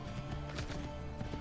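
Horse in Assassin's Creed 2 trotting with rhythmic hoof clip-clops over a steady background hum, moderately close and continuous.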